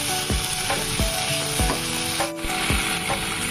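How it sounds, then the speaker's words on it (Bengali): Tomatoes frying in a pan are stirred with steady scraping strokes, roughly one every three-quarters of a second, over a continuous close sizzle. "টমেটোটা দেওয়ার পরে আমি 1 মিনিট মতো নাড়িয়ে নিয়েছি।"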